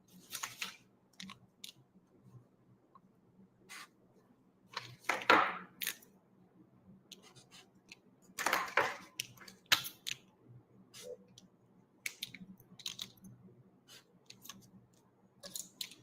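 Bengali letters written by hand, giving soft scratchy pen or pencil strokes in scattered short bursts with quiet gaps between them, faint and close, with no voice.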